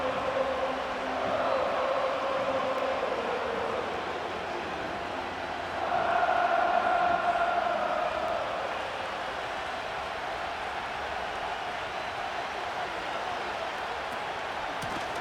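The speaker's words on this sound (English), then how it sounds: "We can feel this crowd all the way up here in the press box, Mike." Stadium crowd noise from a Madden 25 football game between the Denver Broncos and Kansas City Chiefs at Kansas City, a steady roaring wash that swells briefly to a louder cheer midway before settling back to a constant background din.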